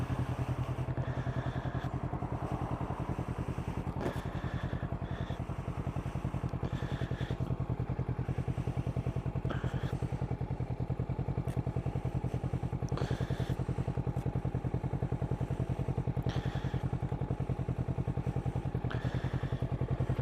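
A green Kawasaki motorcycle engine runs steadily up close, a constant low, throbbing idle with light mechanical clatter and occasional thumps across the whole stretch, with no talking.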